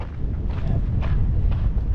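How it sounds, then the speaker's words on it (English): Strong wind buffets the microphone beside large termite mounds outdoors, a continuous low rumbling roar with gusty swells and no speech. "actually, so windy"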